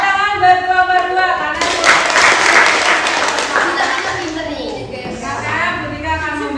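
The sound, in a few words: class clapping for a student group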